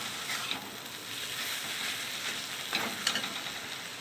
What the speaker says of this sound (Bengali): পুরো বোঝা যাবে যে এটা ভাজা হয়ে গেছে